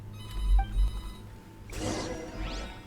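A telephone rings in a video game, a short electronic ring heard twice early on under a steady game background, followed by a louder burst of scene noise.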